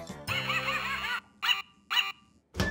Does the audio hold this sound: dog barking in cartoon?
yes